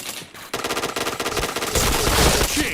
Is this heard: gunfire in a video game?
yes